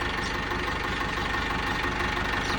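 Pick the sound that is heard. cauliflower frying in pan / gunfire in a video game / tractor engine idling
tractor engine idling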